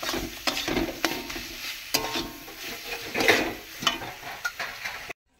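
Food frying in a pan for a village-style stuffed pointed gourd dish is stirred with a utensil: close sizzling hiss broken by repeated scraping strokes and soft clanks, ending abruptly.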